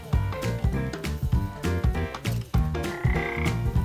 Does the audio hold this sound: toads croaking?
yes